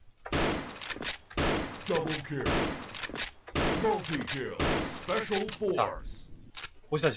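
SV-98 sniper rifle shots in the online shooter Special Force, a rapid series of sharp cracks in quick succession, with someone speaking between them.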